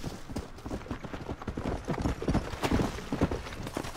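Horse hooves clip-clop at a steady trotting rhythm in the Red Dead Redemption: Undead Nightmare video game, close and fairly loud over soft ambient game noise.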